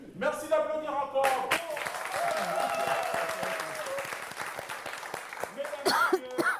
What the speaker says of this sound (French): Merci d'applaudir encore.